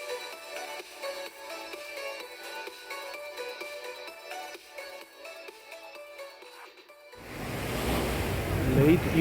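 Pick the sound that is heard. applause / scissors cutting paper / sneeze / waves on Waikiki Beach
waves on Waikiki Beach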